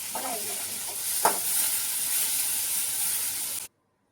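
Tomato fries and is stirred in a pan with a strong, hissing sizzle, one quick scrape of the spoon early on, then steady frying until it cuts off abruptly near the end.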